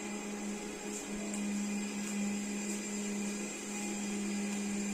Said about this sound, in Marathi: आता काजूगर बारीक करून घ्यायचं